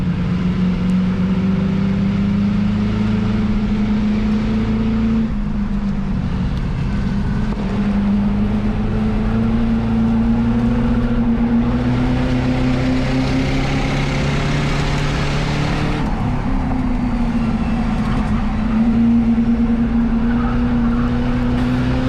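A loud race car engine drones steadily from inside the cabin, its pitch rising and falling through gear changes and acceleration, with no talking.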